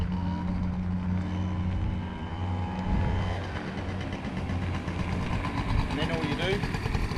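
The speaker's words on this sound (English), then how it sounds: "increase your rev slightly until the bike starts to pull" A Zoot Metro motor scooter engine runs close by with a steady, throbbing hum, the revs lifting slightly partway through and holding a constant drone.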